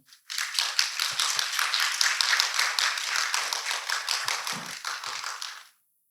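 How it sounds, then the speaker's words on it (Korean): A conference audience at a youth climate event opening ceremony applauds after a welcome speech, a dense sustained burst of clapping lasting several seconds before stopping abruptly. "주순선 본부장님께 다시 한번 큰 박수 부탁드립니다"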